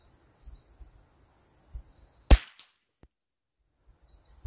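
A single sharp crack from a Remington 597 rifle firing at a steel spinner target outdoors, followed by a brief ringing clang and a faint tick, against a quiet background with distant birds.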